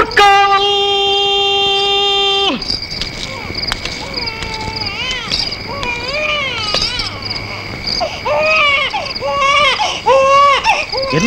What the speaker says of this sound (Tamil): என்ன இது குழந்தை அழுகிற சத்தம்